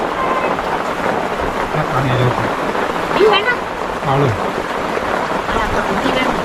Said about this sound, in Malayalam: മഴയുണ്ട്.